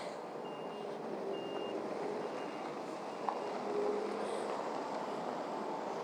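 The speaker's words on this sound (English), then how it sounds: "I'm just waiting for the construction vehicles to go by." Construction vehicles pass on a street on Suomenlinna Island in Helsinki, with a faint reversing beep repeating over a low, distant engine rumble, heard outdoors without talk.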